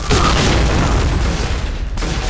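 A loud, sustained grenade blast with heavy low rumble fills the whole stretch in the video game Point Blank, with no voices on top.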